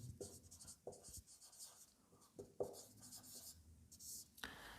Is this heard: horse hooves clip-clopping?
no